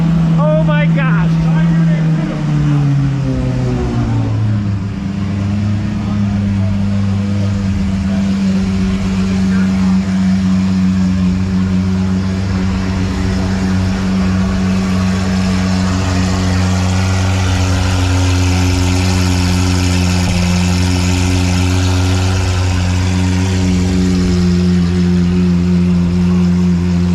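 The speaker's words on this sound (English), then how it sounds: "he was going to do is start up his Lamborghini" A Lamborghini engine cranks and catches, then settles into a loud, deep, steady idle with strong low harmonics and a few blips of throttle, close by at a crowded open house event with voices in the background.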